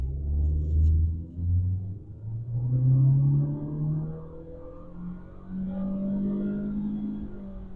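Honda Civic hatchback with automatic transmission accelerating hard from a stop, a loud low engine drone rising steadily in pitch through the run, rumbling close with no talk.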